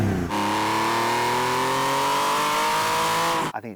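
A Porsche 997 GT3 with a modified exhaust is revved hard, its engine climbing in one long sustained rise before cutting off abruptly, loud and close.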